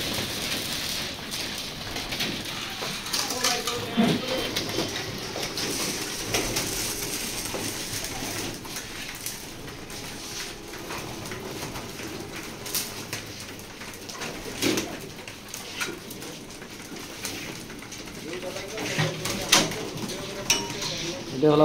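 Racing pigeons coo and rustle inside a loft, soft repeated cooing and fluttering with scattered clatters and tapping over a steady noisy background, fairly near and moderately quiet.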